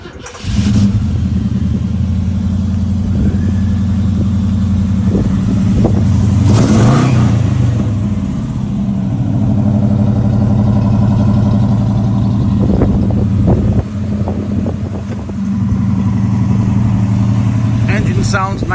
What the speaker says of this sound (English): Engine sounds nice and strong.